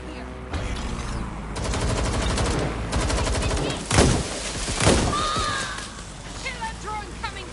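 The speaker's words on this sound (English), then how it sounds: "I'm getting shot out here!" Gunfire in the video game Watch Dogs: Legion, a burst of loud shots with sharp cracks mixed into busy game sound and music, with voices talking over it.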